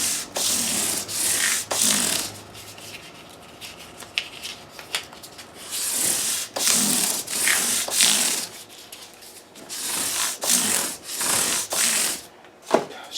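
600-grit sandpaper rubs against a Les Paul guitar nut in close, rhythmic back-and-forth strokes, rasping in bursts with brief pauses between passes.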